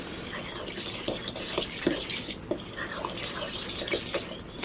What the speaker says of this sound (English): take our fork and stir this up real quick and good